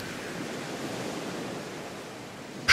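Sea waves wash in a soft, steady hiss of surf, even and unbroken, ending in a sudden louder rush at the very end.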